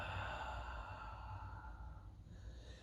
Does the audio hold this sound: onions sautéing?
no